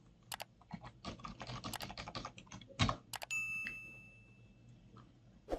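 Quick bursts of keystrokes on a computer keyboard, tapping in uneven runs at close range, ending with a short chime.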